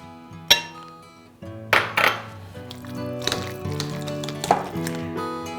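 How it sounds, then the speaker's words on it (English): A hand masher works through cooked potatoes in a bowl, giving close, irregular metallic clinks and knocks against the dish with soft squishing between strikes. "I like to do a hand masher just to kind of get things going"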